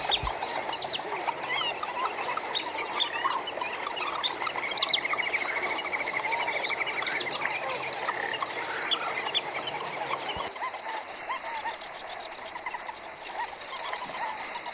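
Night ambience at Mabua in the Kgalagadi park: a dense, steady chorus of croaking frogs and chirping birds and insects fills the air at moderate distance, with no voices.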